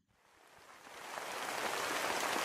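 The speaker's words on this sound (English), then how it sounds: "So once I press the rain," Steady rain ambience from the Noisli background-sound app, a dense hiss of falling rain that fades in and swells louder, continuous and unbroken with no voices.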